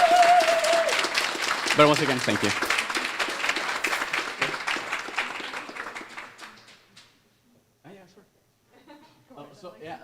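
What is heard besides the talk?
audience applause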